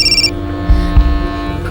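A mobile phone rings with incoming calls: a short, bright electronic ring at the start, then a low steady hum with a couple of soft thuds. No one speaks.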